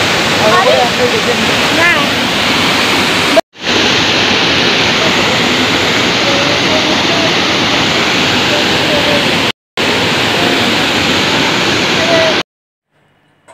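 Steady loud rush of flowing water, like a cascade at Rock Garden in Darjeeling, filling the scene nearly throughout with brief cuts, while voices talk faintly underneath.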